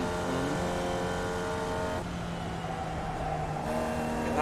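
Race car engine from the iRacing sim game, Formula Vee among the cars, droning steadily with shifting pitch, loud and continuous without speech, a brief drop in tone midway as the engine note changes.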